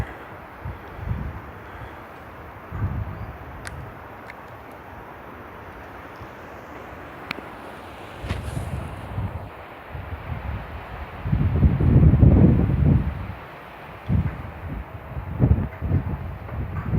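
Strong wind of about 50 km/h gusts across an open backyard shooting range, roaring and buffeting the microphone in uneven surges that peak near the end. No one speaks.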